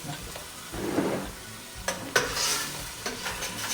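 Chopped onions frying in a pot for Ethiopian lentil wat, a close steady sizzle broken by a few stirring scrapes and clinks, no voices.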